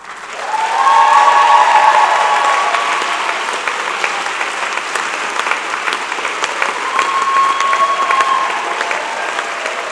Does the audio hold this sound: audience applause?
yes